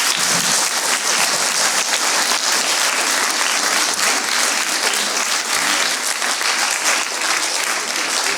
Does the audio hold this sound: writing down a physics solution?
no